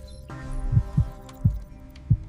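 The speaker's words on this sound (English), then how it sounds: "It was a heartbeat" A heartbeat sound effect pulses as four soft, low thumps at a steady slow rhythm over a faint sustained hum, with no voices.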